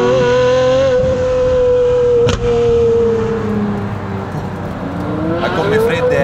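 A Pagani Zonda F with a 7.3-litre V12 AMG engine accelerates, its loud, close engine note climbing in pitch through gear changes, with a brief sharp burst midway; a voice talks over it.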